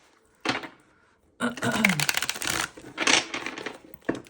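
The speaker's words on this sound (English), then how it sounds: "we'll just do one more shuffle" Tarot cards being shuffled in several rapid, papery riffling bursts, close and fairly loud, with brief pauses between them and a faint voice-like murmur in one stretch.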